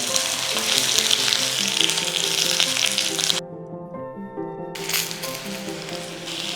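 Brinjal (eggplant) pieces frying in oil in a pan, a steady loud sizzle that drops away for about a second midway, then resumes under a faint background tone.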